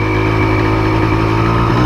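A Yamaha Blaster quad's small engine running steadily close up, a loud, even buzzing idle with a constant tone and no pauses.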